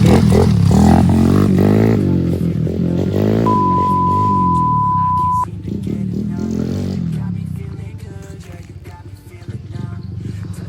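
A Honda Wave 125 set up as a dirt bike is ridden, its engine making a loud, continuous low rumble close by that eases slightly toward the end.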